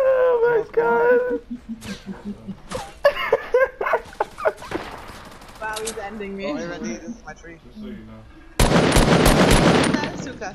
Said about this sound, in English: Shooting at it.